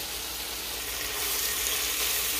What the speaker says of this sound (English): I'm just stirring around these veggies and the garlic just to make sure that they're all getting cooked evenly